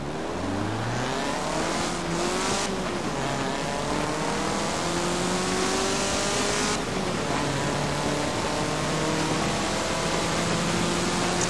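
A 1975 Honda RS in the racing game Forza Horizon drives with a steady, loud engine drone, its pitch rising and falling through gear changes and accelerations, with no voices over it.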